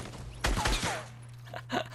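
Gunfire in the Fortnite video game, a short burst of a few sharp shots close by over a steady low game hum, followed by a fainter pop.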